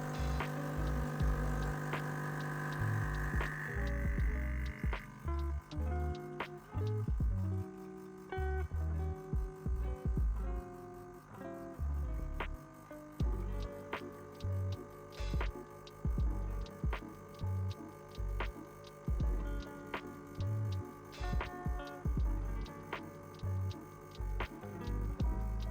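A Gemilai Owl G3006 espresso machine pulls a shot: a pulsing, rhythmic pump hum ticks on and off throughout, close and moderately loud, with no talking.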